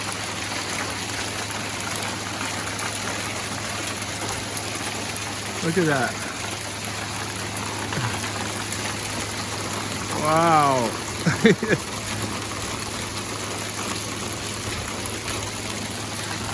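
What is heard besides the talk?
hail storm falling in California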